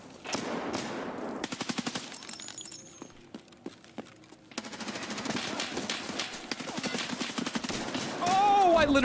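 Gunfire from Escape from Tarkov Arena: rapid automatic bursts of close, sharp shots come in fast clusters with single cracks between them and some glass-like breaking, and someone speaks over part of it.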